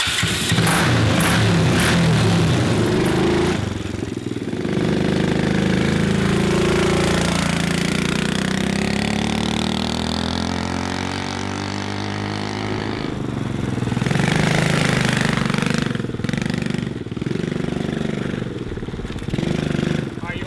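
A mini 125cc ATV engine runs loud and close, idling and revving with rough, rising and falling tones and a rattling buzz, while people talk over it.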